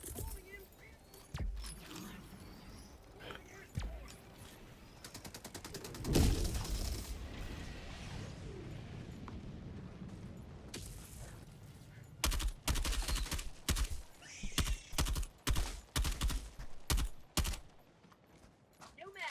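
Bursts of machine-gun fire in the video game Helldivers 2, rapid clustered volleys that grow loud and dense toward the end, with someone talking over the shooting.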